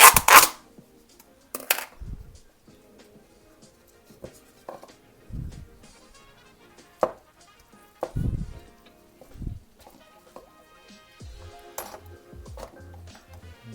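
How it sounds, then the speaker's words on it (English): A knife chopping a block of feta cheese on a cutting board, with sparse, irregular thuds and clicks spread across the stretch, close and fairly quiet, with no talking. "Now I'm just going to chop some of the feta cheese."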